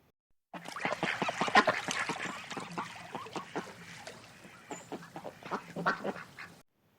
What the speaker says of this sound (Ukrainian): кря кря кря пливе по річці, їй зерно скубе травичку качка.